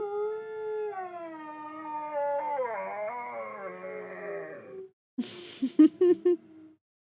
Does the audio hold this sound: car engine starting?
no